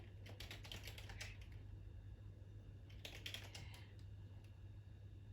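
Keys clatter on a computer keyboard while someone types a short text entry, in two quick bursts of close, soft tapping separated by a pause, under a faint steady hum, with no talking.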